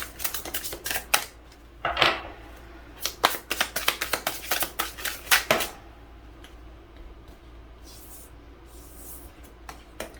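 Tarot cards being drawn and handled: a quick flurry of crisp riffling and slapping card sounds for about six seconds, close and fairly loud, then a few faint soft handling noises.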